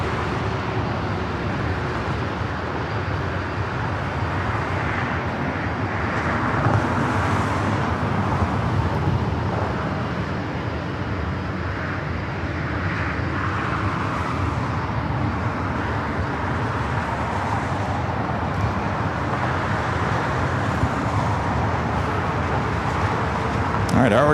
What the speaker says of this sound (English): All right, already cleared for takeoff, now rolling down to 24 left.